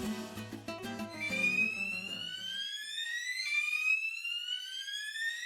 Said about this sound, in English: Blasted out of there with the fire alarm that wasn't actually a fire alarm at 6 in the morning